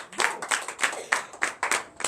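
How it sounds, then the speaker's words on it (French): Church congregation clapping in acclamation to Jesus during a Sunday service in Comè, Benin, with sharp rhythmic claps in quick, regular bursts, close and fairly loud, with no talk over them. "Donnez l'acclamation à Jésus."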